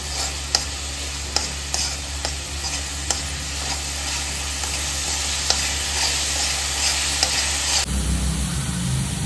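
Sautéing in oil for Schezwan chutney, using oil reused from frying chicken lollipops: a continuous loud sizzle with a low hum underneath and regular scraping taps of stirring, then the sound shifts sharply near the end.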